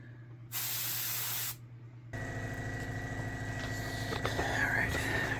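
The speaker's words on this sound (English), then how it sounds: "we sprayed the Enterprise and the Enterprise A with her all the gold and the blue that we needed" Aerosol spray paint hisses in a loud steady burst of about one second as Enterprise and Enterprise-A 1/350 scale refit model kits are coated gold and blue, followed by quieter room noise and faint movement.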